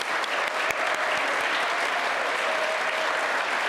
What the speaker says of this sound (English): one more round of applause for our First UU youth.